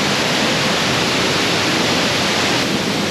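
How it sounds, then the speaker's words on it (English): The Allt Chranaidh waterfall pours into the back of Smoo Cave in a loud, constant, broadband roar of falling water that fills the space with no pauses. "you can see the waterfall behind me now. The sheer volume of water is actually carving away at the back of the cave"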